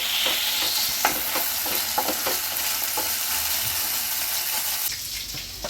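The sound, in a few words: frying ginger garlic paste in a pan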